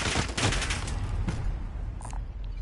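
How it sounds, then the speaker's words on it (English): Loud, dense gunfire in a shooter game on PS4, rapid overlapping shots and bursts filling the whole stretch with no pause. "I'm getting hit! Taking fire here."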